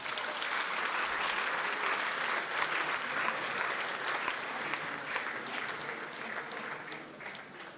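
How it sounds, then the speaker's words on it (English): Applause from a gala dinner audience, a dense, sustained wash of clapping from many hands that holds steady and eases off slightly at the very end. "I'm going to give them a round of applause."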